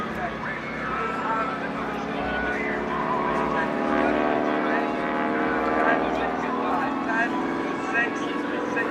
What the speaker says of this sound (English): you get the sound of that beautiful Pratt & Whitney radial engine.